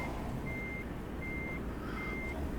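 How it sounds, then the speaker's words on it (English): Virtual truck backing a trailer in Euro Truck Simulator 2: three evenly spaced high electronic reversing beeps over a constant low diesel engine rumble, steady and close with no talk. "I'm concentrating now to try and get this trailer reversed into here."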